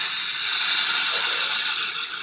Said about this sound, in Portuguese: Olha o barulho do cabelo tostando.